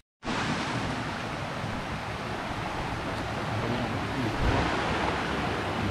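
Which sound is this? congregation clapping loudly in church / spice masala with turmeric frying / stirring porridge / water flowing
water flowing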